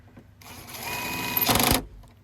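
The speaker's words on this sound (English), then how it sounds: "Both bolts going in there. Tighten up the gun." A power gun tightens bolts on a VW Golf during bonnet latch cable replacement, giving one close, loud whirring burst of about a second that ends in a harsher rattling buzz before stopping.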